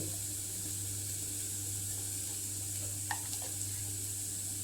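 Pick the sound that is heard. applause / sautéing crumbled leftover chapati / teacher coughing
sautéing crumbled leftover chapati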